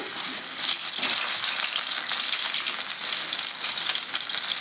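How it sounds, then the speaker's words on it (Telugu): Dried prawns fry in hot oil for pakoda, a steady close sizzle with crackling bursts that continue evenly throughout, with no talking. "వీటిని కూడా నేను ఆయిల్లో వేసేస్తున్నానండి"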